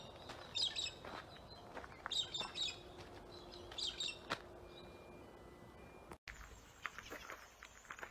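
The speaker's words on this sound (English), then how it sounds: "Check out these baby zebra finches." Baby zebra finches chirp in high, thin bursts that come and go, with soft footsteps and faint rustling nearby, then a sudden cut to quieter background noise.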